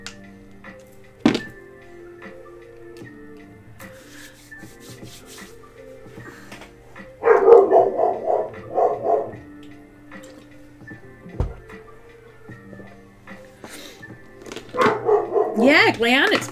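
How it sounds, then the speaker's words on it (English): A neighbour's dog barks in the distance, a burst of several quick barks midway and another cluster near the end. Faint knocks and thuds from indoors are also present, and a person talks intermittently. "Sorry if you can hear barking."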